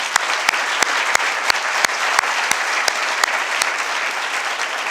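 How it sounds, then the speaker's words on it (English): Applause for a distinguished alumnus honoree at a School of Public Health ceremony, steady crowd clapping with a few sharp, regularly spaced louder claps standing out near the listener. "So let's give him a round of applause"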